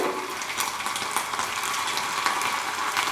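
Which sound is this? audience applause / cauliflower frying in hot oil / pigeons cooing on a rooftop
cauliflower frying in hot oil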